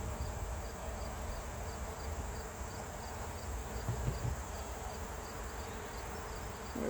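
Honeybees humming inside an opened beehive, a faint steady drone with a regular soft ticking beat and a few low knocks from handling.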